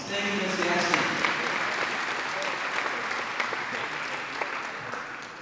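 A round of applause from the crowd at a high school National Signing Day ceremony, loud sustained clapping from many people that holds steady and then gradually eases off.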